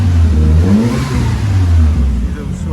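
A Ford Fiesta RS fitted with a Focus RS turbo engine revving loudly and close, a strong sustained engine roar that rises and dips over a few seconds.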